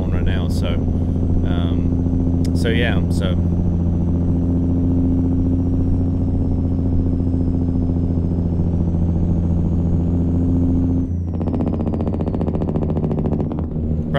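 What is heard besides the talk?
Cummins N14 truck engine, Zeemods sound mod, video game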